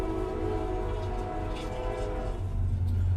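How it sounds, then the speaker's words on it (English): A train passes near a home workshop, giving a steady, loud low rumble with a sustained horn-like tone that swells toward the end, heard alone without talk. "Here comes the train."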